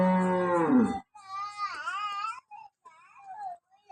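Cows at a dairy with several milking cows: a loud, deep moo, then higher, wavering calls and shorter lowing sounds with quiet gaps between them.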